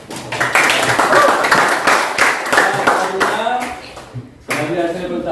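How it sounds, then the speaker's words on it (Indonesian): A classroom of students clapping hands in a lesson, a close and fairly loud burst of clapping with uneven rhythm and voices mixed in, a brief dip near the end before it resumes. "Tepuk tangan dulu."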